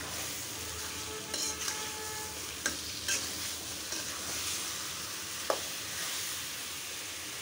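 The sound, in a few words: garlic added and stirred into olive pickle in pan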